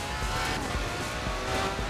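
A Ferrari races in Forza Horizon 4, giving a continuous loud engine roar with tire noise and no pauses.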